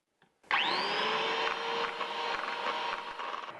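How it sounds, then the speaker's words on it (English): Electric whisk or mixer beating corn flour into eggs and sugar: a steady motor whine that starts abruptly and runs continuously, loud and close, with a slight rising pitch at spin-up. "Now add the corn flour and whisk again until thoroughly combined and with no lumps"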